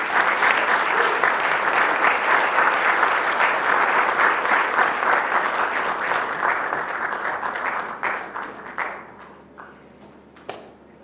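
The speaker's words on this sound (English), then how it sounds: "Give them a thunderous applause." Loud, dense applause from a conference audience at an arts forum fills the room for about eight seconds, then thins into scattered claps and fades out.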